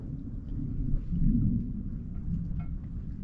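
Thunder from a distant storm near Saint Lucia, heard from the water, rolls as a low, continuous rumble that swells and fades over a few seconds beneath steady rain.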